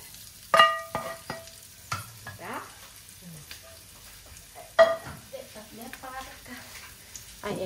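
Bean sprouts and tofu are shifted from a small pan into a larger one, with scraping stirs and spatula knocks over a crackling sizzle, while a voice speaks briefly near the start.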